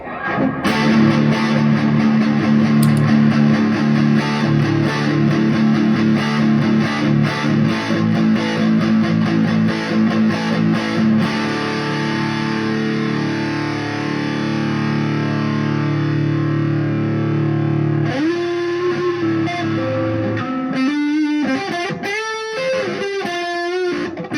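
A guitar played through a pedalboard with full fuzz engaged rings out loud and saturated, sustained chords ringing for about twenty seconds before quieter, choppier picked notes close the passage.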